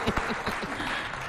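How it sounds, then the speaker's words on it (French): An audience at a live African diaspora stage show breaks into applause, with several sharp individual claps standing out early before settling into steady, moderately loud clapping. "Applaudissez pour"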